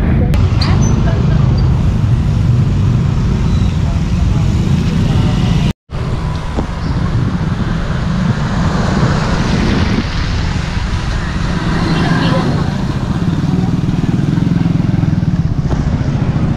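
Heavy road traffic in Malabon, a loud, constant roar of engines and passing vehicles, including motorcycles, heard up close for the whole stretch with only a brief break, while people talk nearby.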